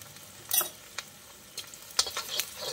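Chopped green chillies and shallots sautéing in a pan for gobi manchurian, a soft steady sizzle broken by a few sharp spatula scrapes and clicks, close by and fairly quiet, with no voices.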